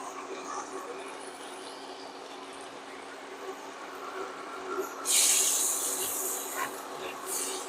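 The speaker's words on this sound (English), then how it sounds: "I'm now going to put in 2 tablespoons of unsalted butter to melt" Two tablespoons of unsalted butter drop into a pan over medium heat, breaking into a bright hiss and sizzle partway through after quiet background, then settling into a steady crackling fizz up close.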